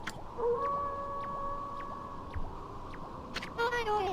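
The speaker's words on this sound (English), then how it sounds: "That was Kimu's howl." A wolf howls in the Okami video game, a drawn-out tonal cry held steady, rising at the start and falling at the end, fairly faint under a soft bed of game ambience and music with light percussive plucks.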